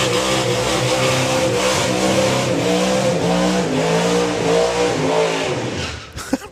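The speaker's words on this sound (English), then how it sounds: "Proper Outlaw Anglia burnout there" Outlaw Anglia drag racing car doing a burnout at a drag strip: a loud, sustained high-revving engine roar with tyre noise, close and continuous, then cutting off abruptly near the end.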